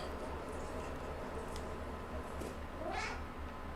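A cat meows once in the video game Stray, a short rising cry standing out over a steady low in-game ambient hum.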